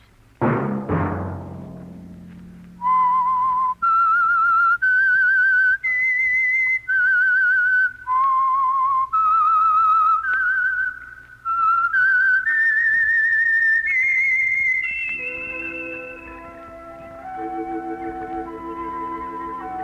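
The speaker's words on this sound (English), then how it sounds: "Let that whistle be your signal for the Signal Oil program, The Whistler" The whistled theme of The Whistler radio mystery program, a loud, clear solo melody of sustained, evenly spaced whistled notes rising and falling, ending as orchestral music comes in.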